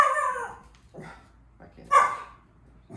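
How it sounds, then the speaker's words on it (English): A pet dog barks at home, with a few loud, close, high yips and barks spaced apart; a person briefly speaks between them. "That's our dog."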